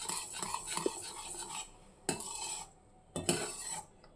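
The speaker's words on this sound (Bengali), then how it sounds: "এখন কন্টিনিউ নাড়াচাড়া করতে করতে দুধটাকে ঘন করে দেবো" A spoon scrapes and clinks repeatedly against a wok as milk is stirred to thicken it for a vermicelli dessert. The close, irregular metallic scraping comes in bursts with brief pauses.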